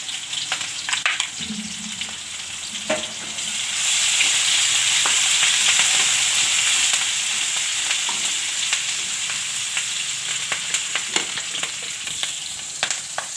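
Ginger, green chilies and asafoetida hit hot oil in a pan for fafdi gathiya shaak, giving a steady loud sizzle that swells partway through, with scattered stirring clicks and spatters and no talking.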